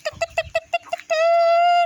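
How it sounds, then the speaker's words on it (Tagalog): A bird calls outdoors: a quick run of short, evenly spaced chirps, then one long, steady, drawn-out note. No wingbeats stand out. "At may naglipad pang ibon."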